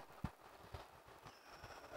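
Horse hooves clip-clop in a quiet, uneven rhythm, a few soft thuds heard alone over low background noise, fitting a rider setting out unarmored with no sword, arrow or spear.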